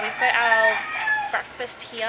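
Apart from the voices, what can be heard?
roosters crowing in the morning in Palawan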